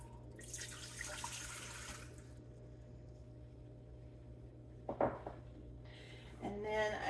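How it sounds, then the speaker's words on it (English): Warm water pours into an Ankarsrum Assistant mixer bowl in a home kitchen, a soft splashing stream for a couple of seconds, then a brief clatter and another short pour, all fairly quiet. "So I'm gonna pour this into my mixer."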